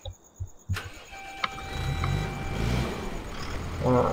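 A Cat tractor engine in Farming Simulator 2013 starts with a sharp crank and settles into a steady idling rumble that swells slightly, heard close and alone, with a faint beep near the start.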